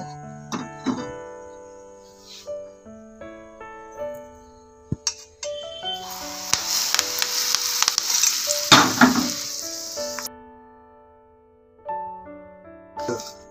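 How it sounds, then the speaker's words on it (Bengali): Hot oil poured into a spiced snack dough mixture gives a brief loud hiss and sizzle, surrounded by clear ringing tones and light clinks of a spoon stirring in a bowl. "তেল গরম হয়ে গেছে, তেলটা এবার এর মধ্যে দিয়ে দেব।"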